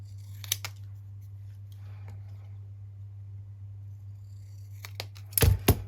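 Scissors snip paper for a junk journal in a few short, crisp cuts near the start and a cluster at the end, close-up over a steady low hum, with a brief louder rustle near the finish.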